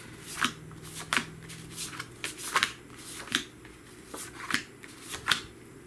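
Sheets of cut pattern paper being pulled out and shuffled by hand, a close series of crisp papery flicks and rustles repeating roughly every half second to a second.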